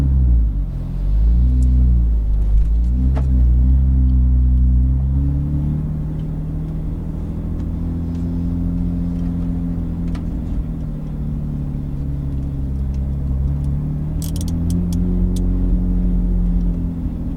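Porsche GT3 991 RS on a racetrack, its engine a loud continuous droning rumble from inside the car, with pitch rising and falling through gear changes and acceleration over several seconds.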